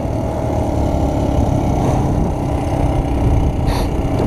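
Motorcycle engine held at full throttle, a steady, loud, close mechanical roar that runs without a break and has a few brief rasps, with no talk.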